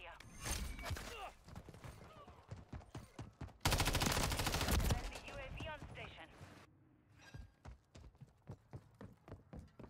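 Gunfire in Modern Warfare 3, scattered sharp shots and a dense loud burst in the middle, heard at low level under a player's excited speech.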